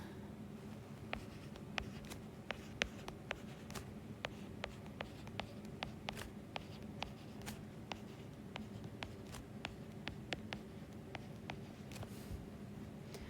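A pen writes out notes by hand in a quiet room, producing many faint, quick scratching strokes in an irregular rhythm over a soft steady background hum.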